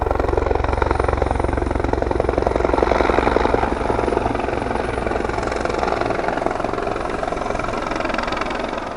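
A helicopter comes in to land, its rotor chopping loud, close and steady throughout, with a low engine drone underneath that fades slightly over the final seconds.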